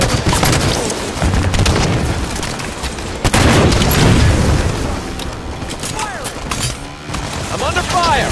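Heavy gunfire and booming blasts in the video game Halo 5 Warzone, a loud, continuous barrage of shots and impacts with voices heard through the battle noise.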